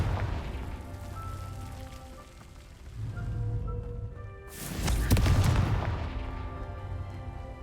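A Confringo fire-blast spell in the video game Hogwarts Legacy erupts as one loud burst with a crackling roar that swells and fades over a rumbling game soundscape.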